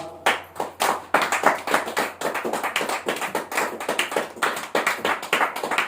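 A church congregation claps hands together in quick, irregular bursts of sharp slaps that keep going, loud and close, with no talking over them.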